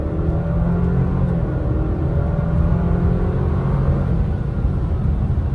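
An Alfa Romeo Stelvio Veloce SUV accelerating, heard from inside as a steady, moderately loud engine rumble and whir with road noise and no talk.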